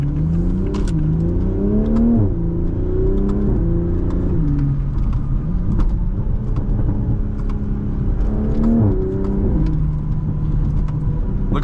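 A 2020 Toyota Supra 3.0 pulls hard through the gears. Engine and exhaust rise in pitch, drop sharply at quick shifts, and climb again. The sound is loud and steady from inside the car, and no one speaks.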